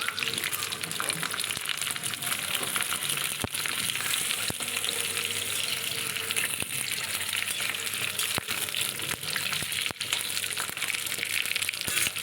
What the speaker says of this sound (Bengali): তারপরে আলুগুলো ভেজে নেব বেশ বড় বড় করেই আলুটা কেটে নিয়েছি